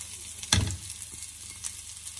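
Fresh ginger dropped into hot oil in a pan while making samosa filling, giving one sharp loud sizzle burst that quickly fades to a faint, steady crackle.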